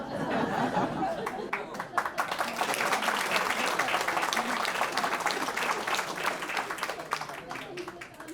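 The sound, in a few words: round of applause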